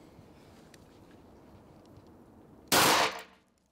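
A single sharp, loud gunshot at a police shooting range cracks out suddenly after a stretch of quiet background noise, then trails off in a brief echoing decay.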